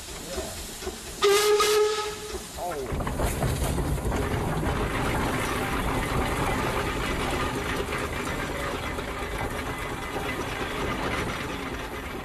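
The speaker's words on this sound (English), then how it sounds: "You want to blow the whistle?" A steam road roller's whistle gives a short shrill blast, followed by a long loud hiss of escaping steam that continues steadily to the end.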